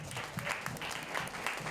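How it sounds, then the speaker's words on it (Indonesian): Applause from students at a high school insurance outreach session, a steady, fairly soft patter of clapping with slight swells, no voices over it. "Tepuk tangan dulu dong"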